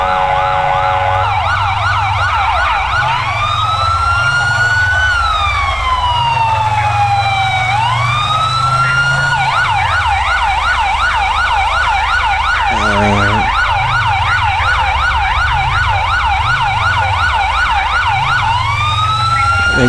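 Loud ambulance siren in GTA V, alternating between rapid yelp and slower wail for the whole stretch, close by, with a faint vehicle hum underneath.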